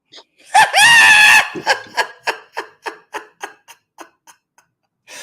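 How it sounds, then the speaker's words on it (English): A person screeches loudly and close into a microphone in one long sustained cry, followed by a run of short, evenly spaced clicks or taps that fade out. "just screeching into the microphone"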